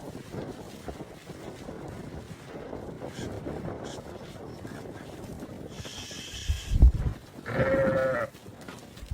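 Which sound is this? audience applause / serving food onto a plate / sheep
sheep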